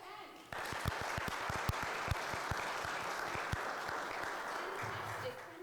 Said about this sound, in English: Another round of applause for Anne.